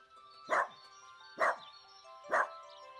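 A puppy gives three sharp, evenly spaced barks, each short and fairly close, separated by quiet pauses with a faint steady hum underneath.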